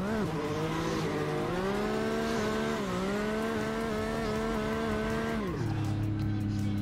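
Engine of a drift car in a racing video game, holding a high steady rev that wavers and rises, then drops in pitch near the end, with faint tire squeal underneath.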